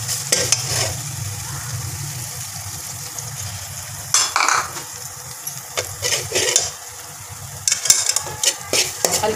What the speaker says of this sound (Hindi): ये खोया हम इसमें फ्राई करेंगे।